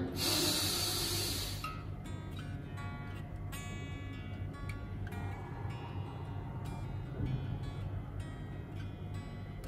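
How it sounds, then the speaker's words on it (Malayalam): A deep, drawn-in breath during a simple breathing exercise, heard close and alone as one long airy hiss at the start, followed by quieter breathy sounds. "നമ്മുടെ കൈ ഇരിക്കുന്ന ഭാഗത്തേക്ക് നമ്മൾ കോൺസെൻട്രേറ്റ് ചെയ്തിട്ട് ശ്വാസം വലിച്ചെടുക്കുക"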